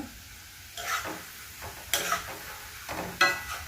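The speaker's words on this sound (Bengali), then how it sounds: "আমার আলু কিন্তু ভাজা হয়ে এসছে" Potatoes fry in a pan with a little turmeric, a steady close sizzle broken by three louder scraping stirs of a spatula against the pan.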